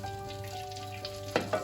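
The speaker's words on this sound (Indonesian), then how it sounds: "Terus baru ditumis kembali, dicampur pakai terasi, jadi lebih sedap." Chili sambal mixed with shrimp paste sizzles as it is sautéed in a pan, a steady close frying hiss with a faint hum, broken near the end by two quick stirring scrapes.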